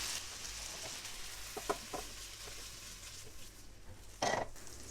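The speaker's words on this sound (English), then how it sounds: "I'm now going to stir fry the veggies" Vegetables stir-fry in a hot pan with a soft, continuous sizzle, broken by a few brief clattering stirs, faint and without speech.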